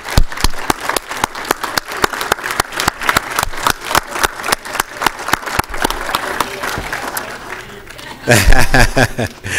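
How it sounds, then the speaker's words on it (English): Audience applause in a city council chamber, a steady run of clear, distinct claps from a modest crowd lasting several seconds, then fading as a louder rumbling noise takes over near the end. "please join me in welcoming and giving a great round of applause to all these members"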